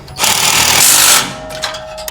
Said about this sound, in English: tighten down the 2 hex bolts